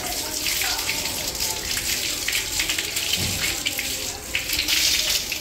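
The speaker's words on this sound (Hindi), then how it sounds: "चाचा जी जो है गाय को नहला रहे हैं, क्योंकि अभी लाइट आई हुई है तो ताज़ा पानी आ रहा है समर सील चला के" Fresh water from a submersible pump pours over a cow being bathed outdoors, a loud continuous splashing gush with irregular spatters throughout and a voice briefly heard beneath it.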